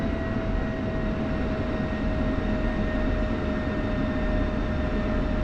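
An F-16 jet taxis in a flight simulator game, a steady loud engine drone with a constant whining tone and no change in level.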